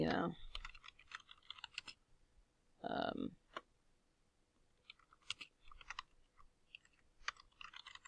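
Rapid, uneven clicking of keys on a computer keyboard while text is entered on a PowerPoint slide, close and fairly quiet, with brief bursts of a voice in between.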